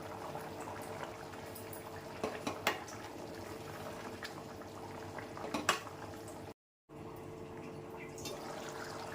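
Taro tamarind stew, chamagadda pulusu, simmers in a pot with a soft, continuous bubbling, a few louder pops and light clinks of utensils, quiet and close with no talking.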